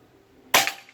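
A single sharp PCP air rifle shot, a Pajero Gun full-CNC Gen 5, cracks loud and close after a quiet pause, with a brief decaying tail.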